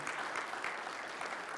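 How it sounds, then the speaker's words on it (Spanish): A church congregation claps in praise during a sermon, a steady dense wash of applause from many hands throughout. "¿Puedes darle un aplauso de alabanza a Él?"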